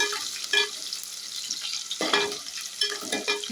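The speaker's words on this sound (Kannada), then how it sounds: "ನೋಡಿ ಇದನ್ನು ಈರುಳ್ಳಿ ಸ್ವಲ್ಪ ಚೆನ್ನಾಗಿ ಇಷ್ಟ ಆದರೆ ಸಾಕಾಗುತ್ತೆ ತುಂಬ ಬಾಡಿಸ್ಕೊಳ್ಳೋದೇನು ಬೇಕಿಲ್ಲ" Onions sautéing in a pan, a soft steady sizzle broken by a few clinks and scrapes of stirring, close and fairly quiet with no talk.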